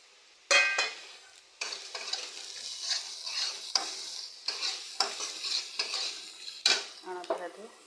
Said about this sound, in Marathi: आता कांदा भाजलाय, त्यात हे तिखट, मीठ, हळद आणि थोडीशी साखर यात घालते बघा।